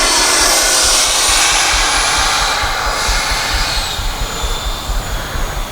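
A Freewing F-86 80mm electric ducted-fan RC jet makes a low pass with landing gear and flaps down, giving a loud, steady whooshing jet roar that holds near throughout and eases slightly toward the end.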